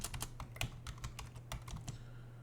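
Quick, quiet keystrokes on a computer keyboard as a command is typed, an irregular patter of clicks over a low steady hum.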